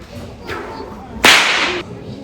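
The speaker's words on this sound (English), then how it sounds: "When we crack the whip, it makes a loud bang" An Australian stockman cracks a soft whip once, a sharp bright crack after a faint whoosh of the swing, followed by a brief lingering hiss before the scene quiets.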